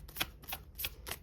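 Tarot cards shuffled by hand in a quiet room, giving four soft, crisp riffling bursts at an even rhythm, close and faint, with no speech.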